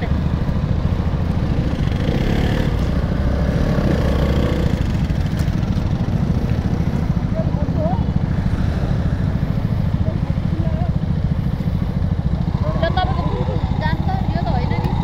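Several motorbikes and scooters riding along a hillside road near Kathmandu, a constant mid-pitched engine drone close by with people talking over it throughout.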